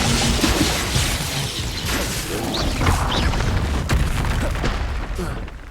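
The Incendio fire spell in Hogwarts Legacy goes off as a loud, rumbling fiery blast with whooshing bursts amid combat noise, a voice shouting over it.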